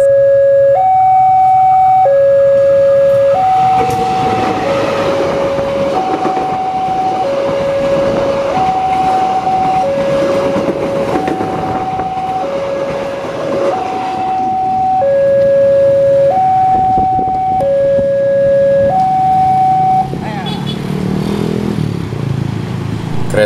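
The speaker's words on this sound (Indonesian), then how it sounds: "Itu dia kereta api Batu Raden Express menuju ke arah stasiun Ciamis." The Batu Raden Express passenger train rumbles loudly past at a level crossing near Manonjaya, Indonesia, close by, while a two-tone crossing signal rings steadily throughout.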